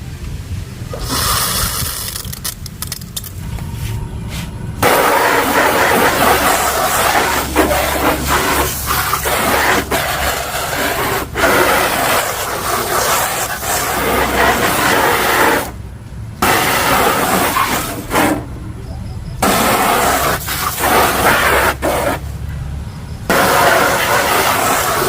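A homemade high-pressure water sprayer runs loud and steady, with a hissing spray that drops out briefly in several places and then resumes.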